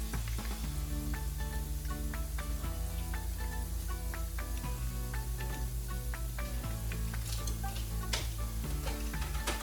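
Funnel cake batter fries in hot oil in a frying pan, a loud continuous sizzle and crackle with a steady hiss throughout, close up and uninterrupted.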